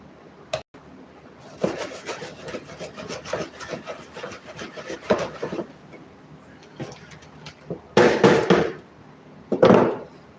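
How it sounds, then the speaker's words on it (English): Worm bin compost being shaken and rubbed through a quarter-inch screen, a close scraping, rasping shuffle in uneven bursts with a few louder scrubbing strokes near the end. "So this is just going to be the initial 1/4 inch sift."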